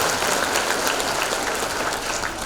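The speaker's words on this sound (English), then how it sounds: "give my friends in the backstage a big round of applause" Audience applause for backstage crew at a live event, a steady dense wash of clapping that holds at an even level throughout with no voices over it.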